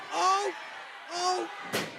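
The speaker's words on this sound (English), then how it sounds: "he slams the chair down" A steel chair is slammed down once during a live wrestling match, a short loud thump near the end following two bursts of speech.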